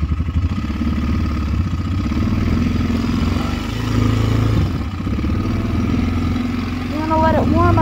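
A Kayo 180 Storm dirt bike engine runs steadily after starting, a loud, close, continuous rumble with faint clatter as it warms up, and a person speaks over it briefly.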